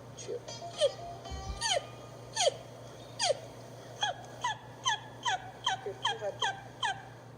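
A diaphragm turkey call, used by a hunter to imitate a wild turkey, produces a run of about a dozen sharp yelps, sparse at first and then quicker and more regular, close and clear over a low steady hum.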